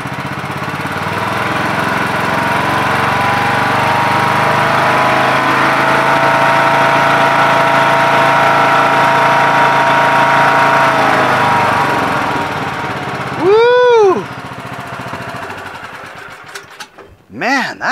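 A Yard Machines MTD lawn tractor with a 20 HP Briggs & Stratton Intek engine runs steadily and loudly nearby, with a brief voice near the end as it winds down.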